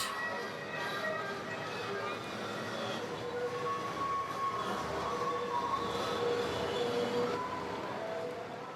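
Tourist train running on a spectacular Ecuador mountain railroad, a steady rolling rumble with faint metallic squeals and clatter, continuous and fairly close, with a voice speaking faintly beneath.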